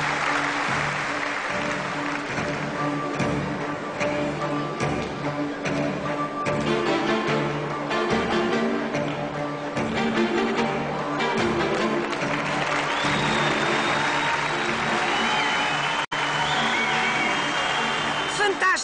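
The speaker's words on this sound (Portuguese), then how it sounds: "E o público aplaude Portugal." Circus audience at the Monte Carlo festival applauding a performer after a fall, a sustained broadband clatter of clapping mixed with crowd noise and music throughout, fairly loud and steady.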